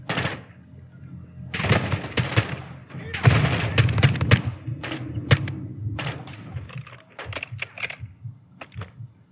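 Automatic gunfire rattles in rapid bursts in the video game Call of Duty Modern Warfare 2, loud and close, with sharper single shots between the bursts and short gaps of quiet.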